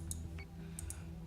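A few sharp, faint mouse clicks while selecting turrets in the game Battlestar Galactica Deadlock, about four quick separate ticks over a low steady hum, close and quiet.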